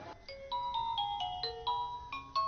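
A mobile phone ringtone plays a bright, melodic run of electronic tones that repeats in quick steps, clear and close, with no voices over it.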